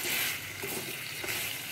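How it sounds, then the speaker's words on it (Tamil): Partridge pieces sautéing in a masala in a pan make a steady, close sizzle with soft scraping pulses from stirring. "ஓரளவுக்கு ட்ரையாக வதக்கி விட்டு எடுத்துக்கலாங்க"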